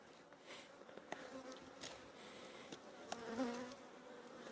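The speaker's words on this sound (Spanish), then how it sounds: "Hay aquí lo menos 20 avispas comiendo comiéndose a las abejas." Around twenty wasps buzz at a beehive as they feed on bees, a faint continuous insect hum with occasional louder passes near the listener.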